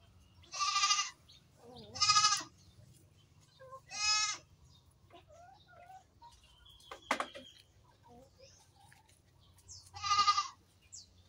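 Farm goats bleat in four separate loud, wavering calls spaced a few seconds apart, with a brief clicking noise in between and no talking.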